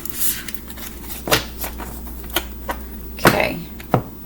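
A deck of tarot cards shuffled by hand at close range, with a few sharp riffling bursts and softer rustles spaced unevenly apart, no talking.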